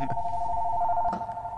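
A telephone rings inside a video game: a steady electronic two-tone trill holds throughout at moderate loudness, with faint game noise underneath and no speech.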